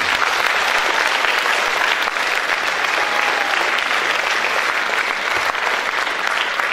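Concert audience applauding the Tattimbet national instruments orchestra, sustained dense clapping from a large crowd in a hall, loud and even from start to finish.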